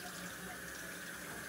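Tap water runs steadily into a sink while food such as salmon and Brussels sprouts is washed, a quiet continuous splashing hiss with no voices.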